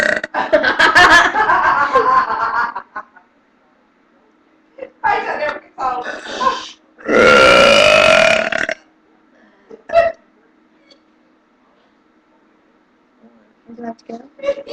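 Several loud, raspy burps from someone come in bursts, the longest and loudest running about two seconds, with talking and chuckling between them.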